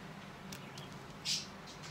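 A single short, high chirp from a small bird cuts through a quiet room tone, with a few fainter peeps around it.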